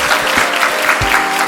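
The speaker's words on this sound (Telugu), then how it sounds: "Give him a big round of applause." An audience claps in a dense, continuous round of applause at an event, close and loud throughout the short moment.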